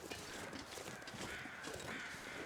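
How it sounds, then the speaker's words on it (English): Crows cawing in the wilderness of the survival video game The Long Dark, a harsh repeated calling heard over a steady, loud wind and ambient noise. "Those crows could be at a deer carcass right here."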